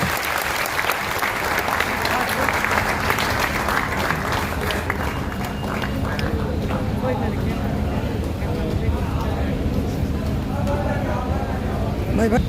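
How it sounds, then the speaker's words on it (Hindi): A gathering of young people in Samastipur claps loudly and steadily for political strategist Prashant Kishor of Jan Suraaj. The crowd noise lasts about twelve seconds, with voices over it and a fading tail. "तो एक बार आप लोग जोरदार तालियों के साथ आदरणीय प्रशांत किशोर जी का स्वागत करें"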